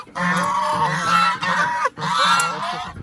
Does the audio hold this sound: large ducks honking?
yes